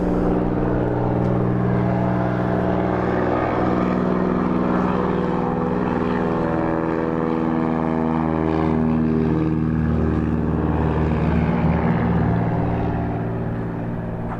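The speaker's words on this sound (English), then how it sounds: "He's getting ready to take a glider up." A propeller aircraft engine drones steadily and close at a desert gliderport in Marana, Arizona, as the tow plane prepares to take a glider up, holding a loud, even hum with slight pitch shifts.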